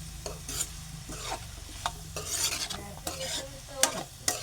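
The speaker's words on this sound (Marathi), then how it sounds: "परतून घेऊ आपण भाजी." Fenugreek leaves and onion being sautéed in a pan for a methi bhaji, with a spoon scraping and stirring in repeated strokes over a soft sizzle, close and steady with no talking.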